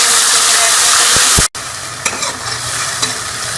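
Tomato and green chili paste frying in a pan for mooli kofte: a loud, dense sizzle that cuts out briefly, then returns as a steady crackle with a few soft clanks.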